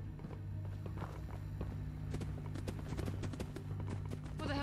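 Footsteps in the video game Fallout London tap in a steady, fairly quick rhythm over a low, constant ambient hum, faint and slightly distant, with no talking.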